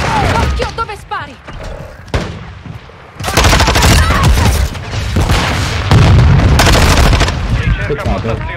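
Loud bursts of rapid gunfire with booming blasts in the video game Call of Duty: Warzone 2, dense and continuous through most of the stretch, with brief gaps between volleys.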